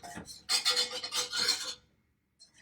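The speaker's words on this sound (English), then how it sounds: "It says whisk briskly until it's all dissolved." A whisk scraping briskly around a pot of elderberry syrup with dissolved gelatin, a loud raspy burst of strokes that stops abruptly, followed by near silence.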